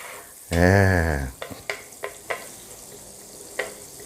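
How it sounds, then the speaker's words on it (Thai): Garlic rice stir-fried over low heat in a pan, with a few sharp scraping clacks of a spatula against the pan after a short hum-like burst at the start, close up and without talk. "คั่วต่อคั่วให้เป็นเหลืองสักหน่อย"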